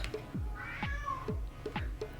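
An upset cat meows repeatedly nearby, sounding four or five drawn-out, whiny cries in a steady rhythm, loud and close.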